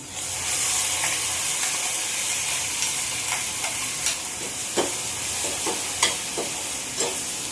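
Tomato paste sizzling in a pan of sautéed onions for a mushroom pepper gravy, a steady frying hiss broken by scraping stirs and clicks of the spoon, no talk.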